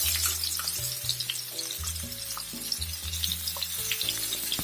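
Scallions and scotch bonnet peppers sautéing in oil for Jamaican ackee and saltfish, with a busy, close crackling sizzle that runs steadily throughout, no voices.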